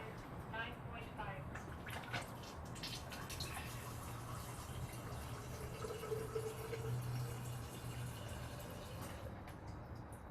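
A Kangen water ionizer machine runs pH 9.5 water into a container with a steady trickling pour and faint drips, while a person talks over it indoors.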